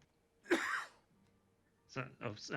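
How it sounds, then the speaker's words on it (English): A single sharp cough from a person, close and brief, followed by a short pause and then a few quiet spoken words. "That was a cough"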